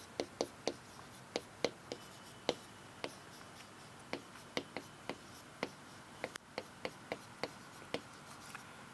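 Pen writing notes by hand on paper, a quiet series of soft taps and scratchy strokes in an irregular rhythm, close and faint against a low room hiss.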